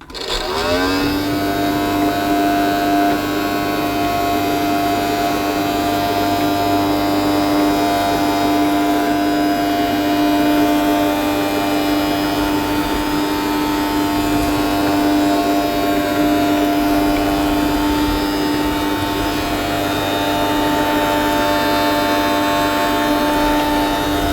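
A Hoover Purepower toy vacuum cleaner by Theo Klein runs with a steady, loud whirring motor hum and a high whine, starting abruptly and holding constant for over twenty seconds with no talking.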